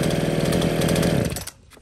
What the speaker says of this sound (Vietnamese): Riêng cái hệ Komatsu này của nó thì tiếng bô của nó nổ rất là êm luôn các bác nhá.